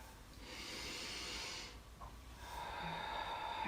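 Slow, steady exhale of breath during a seated chair yoga class, a soft airy rush lasting a couple of seconds before easing and rising again, close and fairly quiet with no talking.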